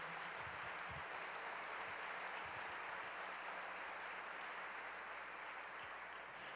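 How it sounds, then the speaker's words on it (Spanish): A congregation applauding at a church service, a steady, faint wash of clapping that carries on evenly throughout, distant and without clear individual claps. "Dele un aplauso al Señor."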